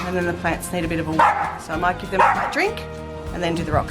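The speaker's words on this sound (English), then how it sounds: "Sorry about the dog barking." A dog barks and yips repeatedly in a garden while a person keeps talking, the barks coming close and loud beneath and between the speech.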